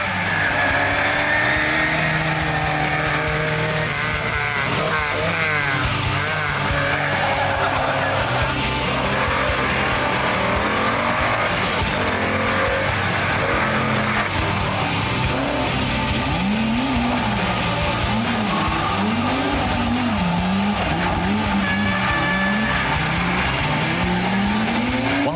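Rally cars drifting and skidding on a loose surface at the San Marino Rally Legend event, engines revving and wailing continuously over a dense, loud wash of crowd noise and tire scrabble, with rising and falling engine pitch.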